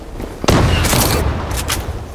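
Rapid gunfire in the Zula video game, a sharp shot followed by a dense, loud burst of overlapping rounds, close and without talk.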